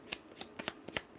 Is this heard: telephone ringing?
no